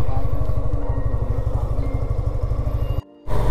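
A motorcycle engine runs steadily and loudly up close with a fast, even throbbing pulse as a ride begins, then cuts out abruptly for a moment before it resumes.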